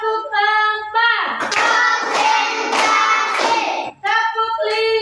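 Children in a classroom clap hands together as a group in a counting clap game, a run of sharp bursts clustered between chanted voices, with the group speaking in unison before and after the claps.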